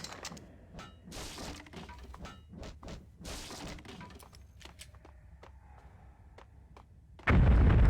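Desert Eagle pistol fire in Max Payne: a rapid series of sharp, loud gunshots with shattering glass and impacts, then a sudden dense roar of noise at the end.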